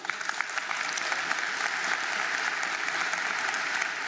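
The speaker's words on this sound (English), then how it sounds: "And a round of applause for Owethu." Steady applause from a crowd at a matric results announcement, dense clapping that holds at an even level throughout with no voices breaking through.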